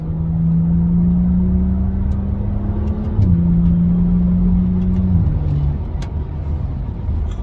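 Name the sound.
BMW 435i exhaust burbles in Sport Plus mode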